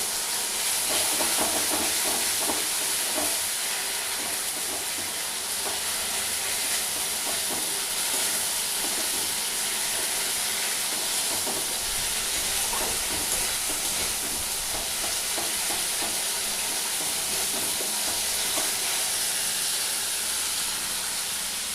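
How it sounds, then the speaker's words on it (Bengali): Onions with added spices fry in a pan, giving a steady, loud hiss and sizzle that runs unbroken and alone throughout. "পেঁয়াজটা মোটামুটি ভালো করে ভাজা হয়ে গেছে। এর মধ্যে আমি মশলাটা দিয়ে দিলাম।"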